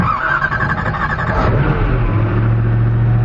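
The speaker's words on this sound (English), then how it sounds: "Cold startup on the Agera RS1." Koenigsegg Agera RS supercar cold start: a loud engine catching and revving, a rising whine and roar shifting into a deep steady idle rumble, close by with no talking.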